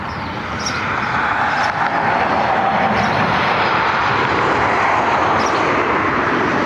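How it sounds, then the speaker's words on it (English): American Airlines Boeing 737 MAX inbound from Los Angeles arriving at Cleveland Hopkins Airport, a loud, steady broadband engine roar that holds constant throughout with no voices. "we have American Airlines Flight 650 737 MAX out of Los Angeles inbound"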